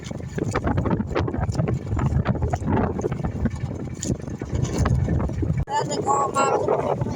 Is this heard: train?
no